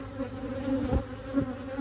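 Honeybees buzz steadily in an opened single brood chamber hive that has lost its three-year-old queen, a close, continuous hum with a few louder passes of bees flying near.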